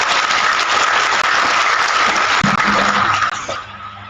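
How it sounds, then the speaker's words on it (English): An audience at a military training day lecture claps together in a loud, dense burst of applause that holds steady and then tapers off quickly near the end. "another round of applause"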